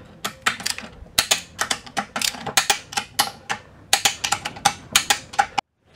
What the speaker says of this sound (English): Now we'll use our torque wrench to torque our case bolts to 17 foot-pounds.